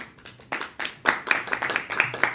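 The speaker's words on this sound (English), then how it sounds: "A big applause for you as well." Scattered hand claps from a forum audience at an international roundtable, a thin uneven patter of clapping that builds slightly over a couple of seconds, moderately close.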